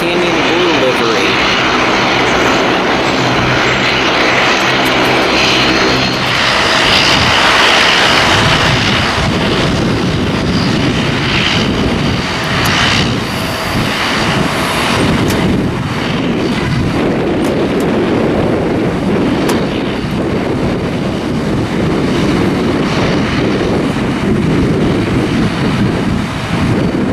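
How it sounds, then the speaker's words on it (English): A Southwest Boeing 737-700 in the old Canyon Blue livery roars past at Portland airport on a windy afternoon, a loud, sustained broadband engine rush that swells and slowly fades, with voices talking faintly over it. "Southwest 737-700 with the old livery,"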